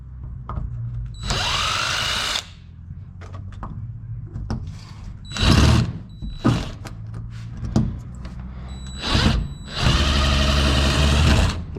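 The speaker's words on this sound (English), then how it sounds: "so you can get these two screws out" Screws being backed out of a door knob and deadbolt lock combo, a close electric drill or driver whirring in several bursts of a second or two, separated by short clicks and metallic handling noises.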